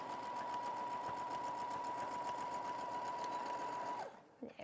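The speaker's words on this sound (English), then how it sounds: "a long piece I'm sewing." A sewing machine runs continuously, stitching a long fabric sleeve with a steady whirring hum and a rapid needle rhythm for about four seconds, then stops abruptly, followed by a faint shuffle.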